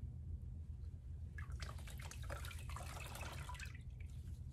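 A folded washcloth is wetted at a sink for a bed bath. Soft splashing and dripping water rises faintly over a low background hum for a couple of seconds, then fades.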